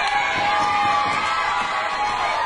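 A wrestling event crowd cheering and shouting in a loud, continuous roar that fills the space without pause.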